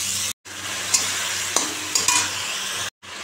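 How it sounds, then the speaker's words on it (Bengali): Eggs and onion sautéing for a Bengali egg curry, a loud continuous sizzle close by with a few sharp spatula scrapes against the pan, and brief gaps of silence at the start and end. "এই দেখো ডিমটা এখন কষাচ্ছি"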